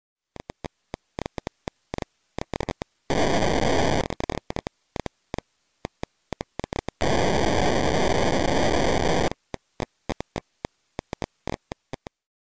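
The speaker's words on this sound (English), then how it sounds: "What you just heard are detections of photons as they hit an ultra-sensitive optical detector" Photon detections striking an ultra-sensitive optical detector in a laboratory are rendered as sound: sparse sharp clicks and ticks at uneven intervals, broken by two long bursts of dense hissing static, all alone and close.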